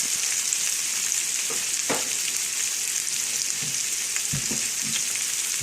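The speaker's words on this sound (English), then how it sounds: "So I just want these to saute a little bit." Thick-cut mushrooms saute in a pan over roughly three-quarter heat, making a constant loud sizzle and crackle with a few soft scrapes and taps scattered through it.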